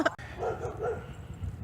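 A dog barks a few short times at close range, each bark quick and moderately loud over quiet room noise, with no speech.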